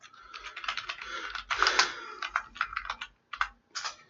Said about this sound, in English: let's type his name into YouTube